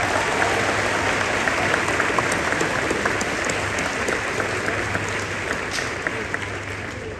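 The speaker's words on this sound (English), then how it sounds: "Please, again, join me in giving them a round of applause." Sustained, dense applause from a large audience at a ceremony, steady and loud throughout with no break, a faint low hum beneath the clapping.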